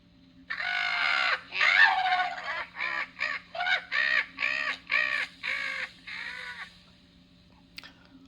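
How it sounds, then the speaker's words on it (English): A crow in a mystery horror video game caws loudly in a rapid run of about ten harsh, hoarse calls, near and with no talk over it, ending in a short click. "Where the hell does this bird come from?"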